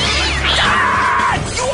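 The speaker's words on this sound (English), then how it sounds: "I believe this is your cat." Cat meowing, a loud, drawn-out yowl with a rising and falling pitch that lasts about a second over background noise.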